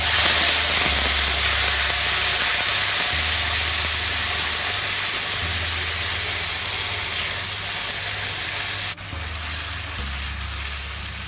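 Vegetable paste hits hot oil with cumin seeds in a pan for dhaba-style matar paneer, giving a loud, steady sizzle and hiss that continues for the whole stretch without any talking.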